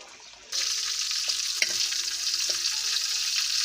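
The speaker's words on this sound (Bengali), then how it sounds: "এই যে শুটকি দিয়ে শাক রান্না করতেছি" Greens cook with dried fish in a pan, a sudden burst of sizzling that then holds as a steady bright frying hiss with a few faint clinks and stirs.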